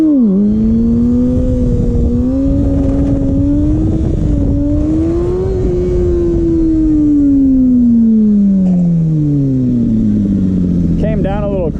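A 2007 Kawasaki ZX6R engine revs up and down during wheelies, pitch rising, wavering and then sliding down as the throttle eases, loud and close throughout.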